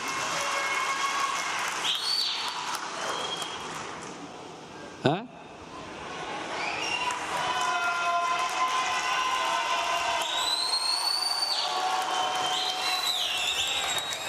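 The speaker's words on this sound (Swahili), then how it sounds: "kwa nini unapigiwa sana makofi?" An audience at a Young Africans (Yanga) club members' gathering in Tanzania applauds in a broad, sustained wash of clapping with a few whistles, dipping briefly before swelling again, while someone speaks over it.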